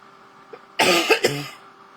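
A pair of sharp coughs up close, the second following quickly after the first, with quiet before and after.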